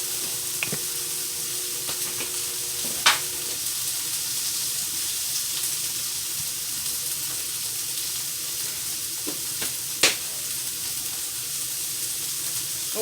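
Butter melting on a hot electric griddle, giving a steady, soft sizzle throughout with a couple of sharp clicks or taps, no talking.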